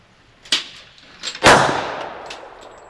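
Pistol shots from a .45 ACP handgun at an outdoor target: a lighter sharp report, then a second loud, close crack about a second later with a long ringing, fading tail.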